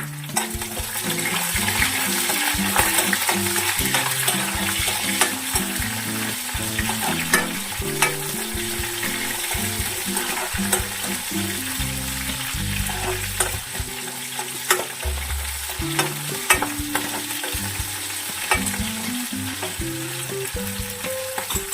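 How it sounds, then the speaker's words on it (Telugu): Green chillies sizzle in hot tempering oil for a fenugreek-leaf and tomato curry, a steady close frying hiss with frequent stirring scrapes and clinks running throughout, no voices. "తాలింపు కొంచెం వేగిన తర్వాత పచ్చిమిరపకాయలు వేసుకున్నాను."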